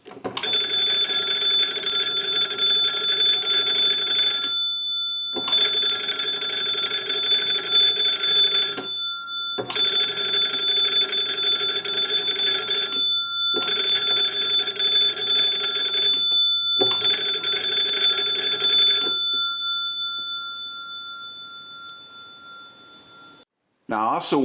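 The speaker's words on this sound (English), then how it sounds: "now what we want to do is crank the magneto and ring the bells." A Western Electric 317A wood wall telephone rings as its magneto is hand-cranked: five loud, sustained bursts of bell ringing, each about four seconds long, separated by short pauses, close and alone.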